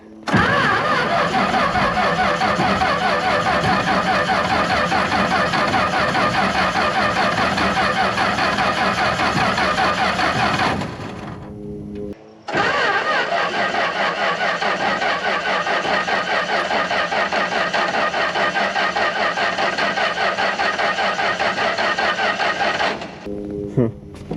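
A Massey combine engine runs with the choke pulled out at partial throttle, a steady loud mechanical roar that cuts out briefly near the eleventh second, then picks up again and keeps going until close to the end.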